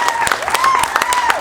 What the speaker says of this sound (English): please give a round of applause for Haley.